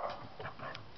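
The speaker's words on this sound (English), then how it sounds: "this dog barked" A dog barks a few times indoors at moderate distance, short sharp yaps in a brief burst with no talking over them.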